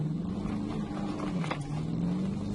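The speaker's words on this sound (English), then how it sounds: "He already got the car started." A car engine idles and revs lightly after starting during a police stop, a low steady hum with slight rises in pitch, faint and continuous with no talk over it.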